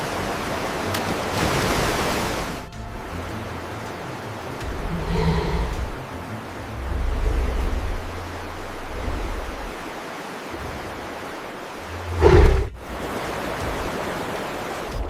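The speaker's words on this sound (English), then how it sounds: "The churning water explodes with frantic jumping salmon." Churning river water in Kamchatka where sockeye salmon jump, a dense rushing roar that swells and fades, with a brief louder splash near the end and no voices.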